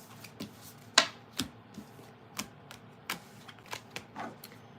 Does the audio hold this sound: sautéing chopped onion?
no